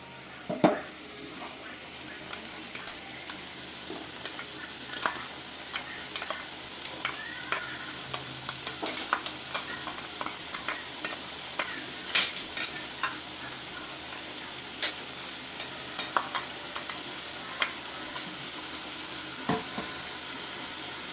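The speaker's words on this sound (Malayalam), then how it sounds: "ഈ സമയത്ത് നമ്മൾ ചതച്ച് വെച്ചിരിക്കണ വെളുത്തുള്ളി ഇഞ്ചി പച്ചമുളക് ഇതിട്ട് കൊടുക്കാം" Crushed garlic, ginger and green chili stir-fry for veg biryani, a steady hiss of sizzling broken by frequent scraping and clinks of a spoon against the pan, close and continuous with no talk.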